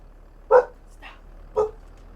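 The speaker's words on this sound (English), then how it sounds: "Apparently the dogs are worked up about something." Dogs in Farming Simulator 22 bark twice in short, separate barks, with a fainter yip between them, over a quiet background.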